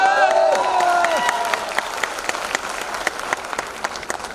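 An audience at a business presentation bursts into applause. Loud, dense clapping opens over a brief tonal sound and crowd noise, then thins into scattered claps that fade out.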